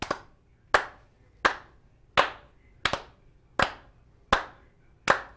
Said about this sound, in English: Let's clap this together